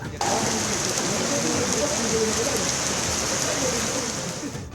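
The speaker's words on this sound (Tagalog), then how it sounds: "Sa baylo nga summer fields, nagbubo ang mabaskog nga ulan." Heavy rain pours down steadily on Boracay island, a dense, continuous hiss close by that fills the whole stretch and eases slightly at the end.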